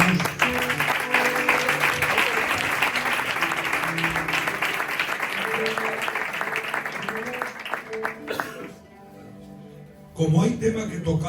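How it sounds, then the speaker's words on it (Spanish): Church congregation breaking into loud, sustained applause under music, then dropping off abruptly before a short burst of sound at the end. "La recibimos con un aplauso"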